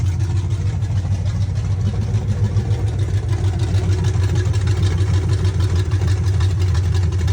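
A small block Chevy V8 fitted with a 4-barrel carburetor idles close by with a steady, slightly uneven low throb and no talking over it.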